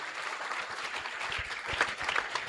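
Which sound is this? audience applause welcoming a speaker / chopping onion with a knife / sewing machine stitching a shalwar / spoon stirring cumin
audience applause welcoming a speaker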